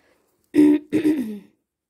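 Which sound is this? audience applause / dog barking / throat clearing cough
throat clearing cough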